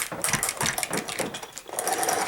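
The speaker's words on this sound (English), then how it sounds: "I'll put this in here, and then I will run it through the die cutting machine" A die cutting machine runs a honeycomb die through its rollers, giving a close, steady mechanical whir with rapid rhythmic clicking throughout.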